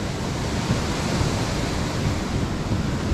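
An overflowing mountain torrent in a valley rushes in a dense, loud, continuous roar of water, steady and broad without pauses or voices.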